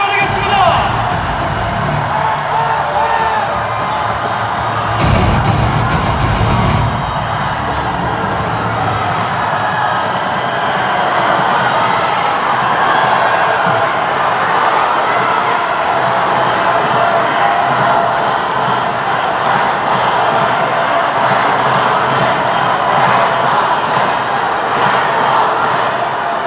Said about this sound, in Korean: 박수로 맞이해 주시기 바라겠습니다